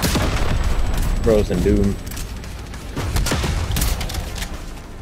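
Call of Duty zombies gameplay with a loud, dense wash of gunfire and a frag grenade blast, continuous for several seconds, while a voice speaks briefly over the din.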